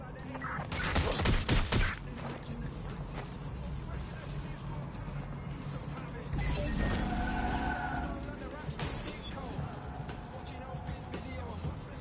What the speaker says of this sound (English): Hey, someone's shooting.